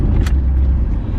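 Steady low engine rumble and road noise from inside a moving car, continuous and fairly loud throughout, with no voices.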